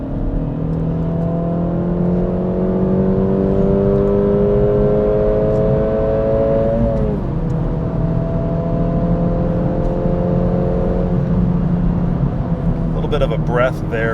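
Acura Integra Type S engine pulling hard on a mountain road heard from inside the cabin: a loud steady drone climbing in pitch, a brief dip at a gear change, then rising again through the next gear.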